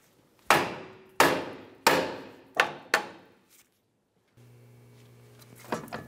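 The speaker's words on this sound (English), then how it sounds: "just so when we go ahead and bonk this to break it free" A hammer strikes the steering knuckle of a 2002-2005 Ford Explorer to break the upper ball joint free, giving five loud, sharp metallic bangs at uneven intervals, each ringing briefly before it decays, followed by a quieter hum and clatter.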